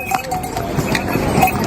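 A horse climbs the steep mountain trail to Kedarnath, its hooves clopping in a steady rhythm close by over a dense wash of outdoor noise and faint voices.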